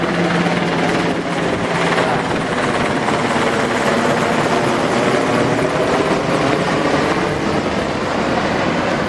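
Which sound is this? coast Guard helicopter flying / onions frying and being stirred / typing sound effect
coast Guard helicopter flying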